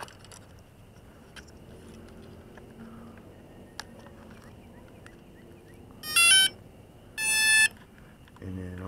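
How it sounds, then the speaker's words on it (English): A battery buzzer on a Walkera QR X350 Pro quadcopter with a 4S battery gives two short, loud electronic beeps, one after the other, over a quiet room background. "And then also get the battery buzzer plugged in here."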